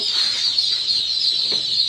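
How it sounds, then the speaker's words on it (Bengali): Belgian duck ducklings on a hatchery farm call continuously in a dense, high-pitched chorus of peeps, close and fairly loud, with no talk. "আপনারা সরাসরি দেখেন অরিজিনাল বেলজিং হাঁস, কেউ বলে রানী হাঁসের বাচ্চা"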